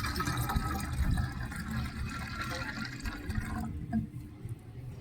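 Water is poured from a glass for a homemade rose-plant pesticide mix, giving a steady rushing splash for several seconds that stops abruptly near the end.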